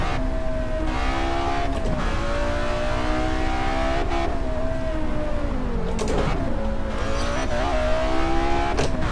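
A Lamborghini Veneno engine in Test Drive Unlimited 2 drones loudly at high revs, with steady pitch that dips and climbs through gear changes. Each shift brings a brief sharp break, heard from outside the car.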